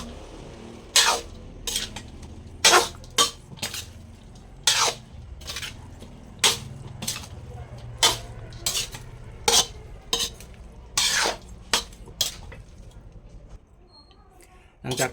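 Fish with rice shoots is stirred and mixed in a pot, a spoon scraping and clanking against the metal in regular strokes over about fifteen seconds.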